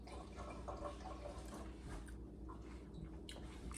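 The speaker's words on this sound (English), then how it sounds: "I'm gonna wash my hands real fast." Tap water runs steadily while hands are washed beneath it in a home kitchen, a continuous close splashing and dripping wash with no talking.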